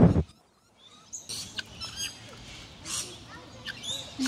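Several birds chirp and squawk in short bursts at close range at a wildlife park in Australia, with a brief loud thump at the start and a voice faintly mixed in.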